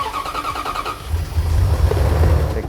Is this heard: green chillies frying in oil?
no